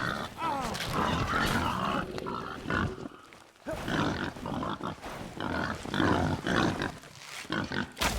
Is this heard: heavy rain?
no